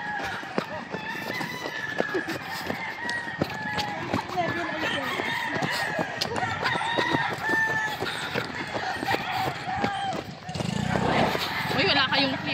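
Chicks and chickens cluck and call at a rural spot, with a rooster-like crow among them, while people talk nearby over the busy, close flock.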